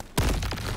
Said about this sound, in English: Ready for the nade? Boom.